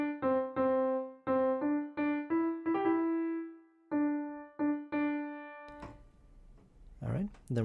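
Piano plays a short melodic phrase as clear, separate notes in an uneven rhythm, then fades out as a voice begins speaking.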